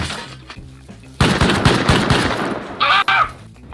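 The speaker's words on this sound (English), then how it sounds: "there's a turret!" Automatic turret opening fire in the Rust survival game: a sudden burst of loud, close gunfire that runs for about a second and a half, then two short bursts of a higher, ringing sound. Faint low voices come before the shooting.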